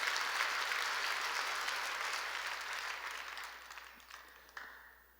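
A church congregation bursts into sustained applause during a sermon, a dense wash of clapping that slowly fades toward the end, with no talk over it.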